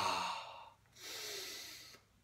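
A person breathes deeply during a breathing exercise with hands clasped behind the back and chest opened, one long breath ending, a pause, then another long airy exhale, close and alone.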